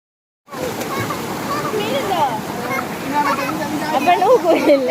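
A natural waterfall reached after an uphill hike, its steady broadband rush of falling and splashing water running continuously and close, with people talking over it throughout.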